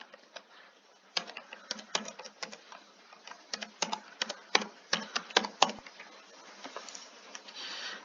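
Fingers type an email address on a computer keyboard in a run of light, irregular key clicks, with short pauses between bursts. Nearby and moderately quiet, with no talk.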